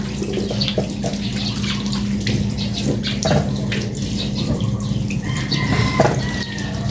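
Tap water runs steadily into a sink as sweet potatoes are washed one at a time, a continuous close splashing stream with small knocks and shifts in the flow, a rooster faintly audible in the background.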